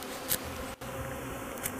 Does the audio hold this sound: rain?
no